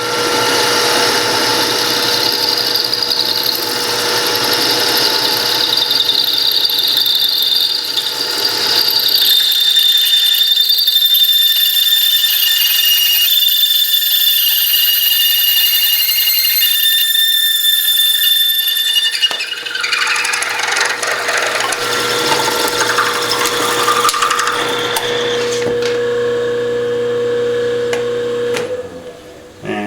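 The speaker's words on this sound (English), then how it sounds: "that's just the noise it makes when you're drilling" Loud, sustained high-pitched whine of a power drill with a 17/32 bit drilling out a metal hub, with shifting tones and a grinding stretch near the end.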